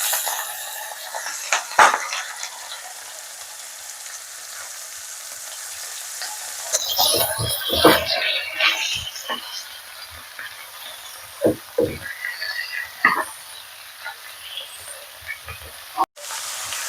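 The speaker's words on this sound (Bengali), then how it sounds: "মাংস, পেঁয়াজ সব একসাথে দিয়ে জাস্ট 3-4 মিনিট এটা একটু কষে নেবো" Chicken, onions and spices fry in a pan for chicken kasha. A soft sizzle runs throughout, broken by scattered stirring scrapes and knocks that pick up in the second half, with light talking in places.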